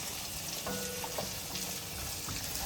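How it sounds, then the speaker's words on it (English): Onions sizzle and fry in a pan for Thai curry, stirred with a utensil: a steady, fairly quiet crackling hiss with a few faint scraping touches and no talking. "so now you just mixing up the onions"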